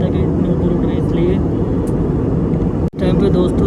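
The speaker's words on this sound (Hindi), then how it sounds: "ये फ्लाइट का जो इंजन होता है काफ़ी तेज़ आवाज़ करता है" A passenger jet's engines drone loudly inside the cabin during a flight from Lucknow to Delhi, a dense continuous roar with a brief dropout near the end.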